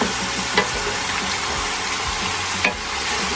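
Garlic frying in a pan for pork ribs adobo, a steady loud sizzle with a couple of scraping stirs of a utensil.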